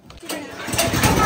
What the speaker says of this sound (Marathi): माऊली ट्रॅक्टर चालवतोय.